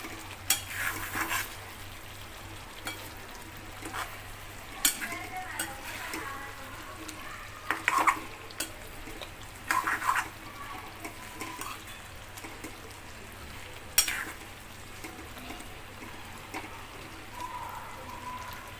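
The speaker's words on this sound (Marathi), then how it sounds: "आता आपण याला मिक्स करून घेणार आहोत" Stuffed brinjal and green chilli bhaji, Vidarbha style, being stirred in a pan: a soft, steady sizzle with sporadic spoon clacks and scrapes, close but low, no voices.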